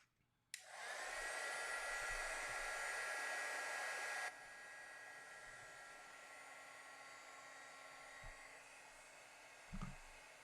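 An embossing heat tool blows steadily over a stamped card, a loud continuous hot-air roar that starts abruptly, drops to a lower level partway through, and keeps running with a few soft knocks near the end.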